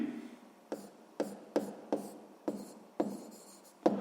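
Pen or pencil writing out a sixth-grade math proportion solution, a series of short scratchy strokes landing at a steady pace, close and quiet, with no talking over it.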